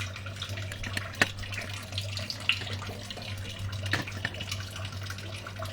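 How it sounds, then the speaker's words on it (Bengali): Water is poured into a cooking pot as a bata fish jhal curry is being prepared, a faint, steady running splash with a few small clinks of utensils in a quiet kitchen. "এই জল দিলাম আমি।"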